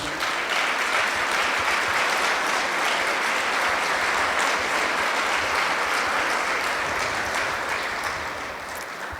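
An audience at a parish gathering in León, Guanajuato gives sustained, even applause to welcome a guest speaker, a thick wall of clapping that eases slightly at the very end.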